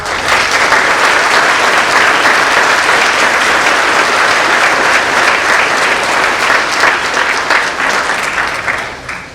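Loud, sustained applause from an audience at a spring nursing pinning ceremony honoring the graduating class, a thick steady roar of many clapping hands that tapers slightly at the end.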